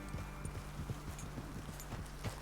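Horse hooves clip-clop at a steady walking pace in Red Dead Redemption II, a rhythmic series of soft, fairly close footfalls over a low background hum.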